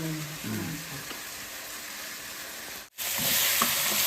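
Garlic frying in hot oil in a home kitchen, a steady close sizzle that cuts out for a moment and then returns louder, with no talking.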